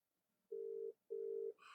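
Two steady telephone tones, each about half a second, sound one after the other as a call is placed, then a short burst of noise at the end.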